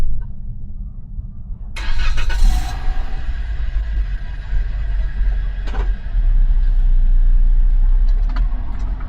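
A car engine in a large parking lot starts up and settles into a low, steady rumbling idle nearby, with a few clicks and brief thuds on top and no speech.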